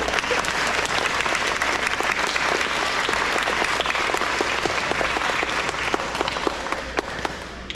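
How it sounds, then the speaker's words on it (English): Sustained applause from an audience at an elementary school awards ceremony for grades 3 to 5, many hands clapping steadily and evenly at a moderate level, easing slightly toward the end. "All right, give them a round of applause."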